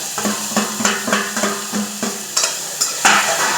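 Potatoes and fenugreek leaves are stir-fried in a pan, giving a soft sizzle under a series of rhythmic scraping and tapping spatula strokes against the pan, close and clear.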